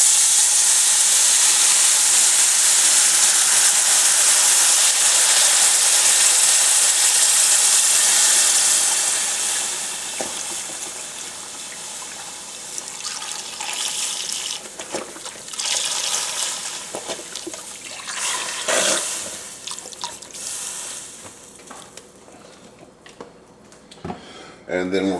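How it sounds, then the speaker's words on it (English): Beef broth pours from a large container into a pot holding a seared roast, a loud rushing hiss for the first several seconds that gives way to quieter sloshing and bubbling, with a person talking over the later part. "we're going to add 1 large container of beef broth"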